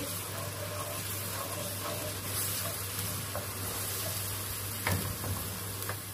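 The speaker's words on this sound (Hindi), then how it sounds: "अब हम इसमें डाल देंगे लहसुन अदरक का पेस्ट और इसको भून लेंगे।" A steady, crackling sizzle of garlic-ginger paste frying in hot oil for chicken karahi, close and continuous, with occasional soft scraping and stirring sounds.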